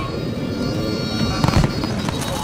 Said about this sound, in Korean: 폭죽을 쏘는 거야,